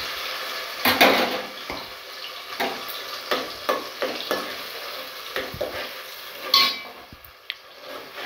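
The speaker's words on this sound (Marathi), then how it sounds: "मसाला चांगला तेलात भाजून घ्यायचं" A ground paste of ginger, garlic, onion and tomato sizzling in hot oil, with a spoon scraping and stirring in short uneven strokes against the pan, close and without voices.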